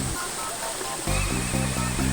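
Water tumbling down into a small natural pool at Tanay, Rizal, in the Philippines, a steady close wash of rushing noise with someone talking over it.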